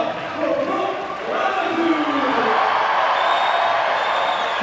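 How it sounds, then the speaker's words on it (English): A crowd at a bouldering World Cup semi-final in Salt Lake City roars and cheers loudly and continuously for an athlete stepping up, with a broad steady wash of voices. "You might be hearing the crowd cheer very loudly for another U.S. athlete, Brooke Rabatou"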